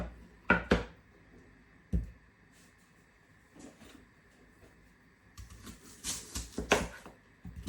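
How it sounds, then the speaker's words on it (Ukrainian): A knife cutting a peeled onion into half rings on a board in a home kitchen, giving a few sharp, irregular chops with quiet pauses between them, close and clear with no talking. "я почистила цибулинку. І буду її нарізати."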